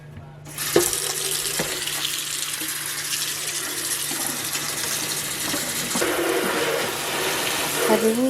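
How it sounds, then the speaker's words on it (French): Water from a bathroom faucet runs into the sink, where small items dissolve, a steady close splashing rush that starts abruptly after a brief quiet and continues throughout, with a few faint knocks. "c'est les petites, ça, se défont dans le lavabo avec l'eau"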